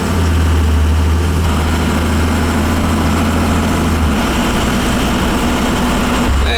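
Close and loud, a truck engine idles on a very cold day with a constant low rumble and throb, its tone dipping slightly partway through, heard alone without talk.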